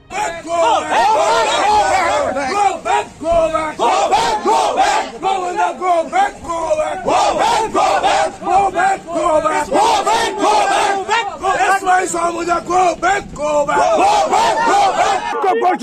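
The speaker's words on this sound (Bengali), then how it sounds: "গো ব্যাক স্লোগান দিতে থাকে তৃণমূল কংগ্রেসের সমর্থকরা" Trinamool Congress supporters chant a "go back" slogan at a polling booth during the Lok Sabha election, a loud, dense crowd shouting in rhythmic, repeated bursts that carry on without a break.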